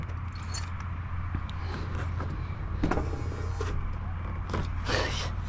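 A Ford 7.3 pickup truck locking, with its power auto-folding mirrors whirring alongside small clicks and jingling sounds over a steady low engine or background hum, all close by.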